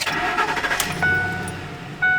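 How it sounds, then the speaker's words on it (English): A 2007 Ford F150 truck cranks briefly and fires up, with a short starter whir, then the engine catching and settling, plus a couple of electronic chimes from the dashboard, close and without talk. "I'm going to start the truck."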